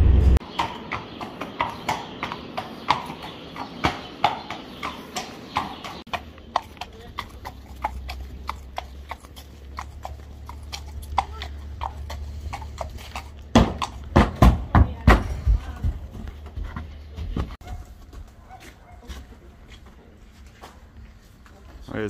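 Horse hooves clip-clop on frozen, icy ground outdoors in winter, a loose, irregular run of distinct strikes that grows denser midway and fades near the end, with people talking now and then.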